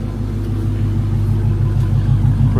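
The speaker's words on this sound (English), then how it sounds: "I just wanted the car idle a little bit, let the battery recharge itself." Rebuilt Chrysler 300 Redeye idling, a steady deep engine rumble with an even low throb, close and loud throughout with no speech.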